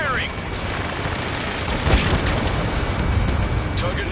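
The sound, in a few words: gunfire and explosions in an air combat video game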